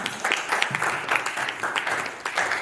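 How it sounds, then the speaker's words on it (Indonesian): A group applauds with dense, steady clapping that fills a couple of seconds, fairly close and even in loudness throughout. "beri tepuk tangan untuk Benaya."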